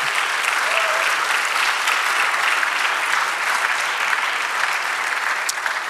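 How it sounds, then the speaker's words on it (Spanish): Congregation in a church breaks into loud, even applause, a thick continuous roar of many people clapping that runs unbroken from start to finish without speech. "Dale el aplauso."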